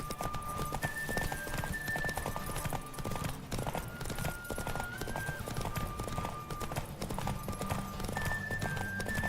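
Rapid galloping hoofbeats of a horse in a video game drum steadily throughout, with the horse whinnying at points over a layer of game music.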